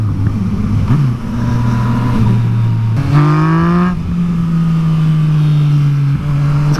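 KTM Super Duke engine droning close and loud while riding, its pitch climbing through a sharp rev around the middle before settling into a steady cruising hum.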